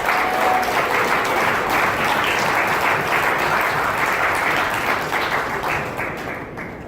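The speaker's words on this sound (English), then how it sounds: "We should applaud them." Crowd applause, loud and continuous, a steady wash of clapping from many hands that slowly fades toward the end.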